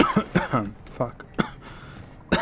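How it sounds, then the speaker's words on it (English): A couple of sharp, sudden coughs burst out among voice-like sounds during a Doom Eternal gaming session, the first near the middle and the second close to the end. "Random cough appearing out of nowhere."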